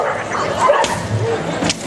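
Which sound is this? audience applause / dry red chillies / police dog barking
police dog barking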